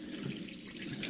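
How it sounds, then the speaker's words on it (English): Soapy water pours steadily over a cat being bathed at home, a continuous close splashing wash with no talking. "Pour that soapy water all around the dirty beast"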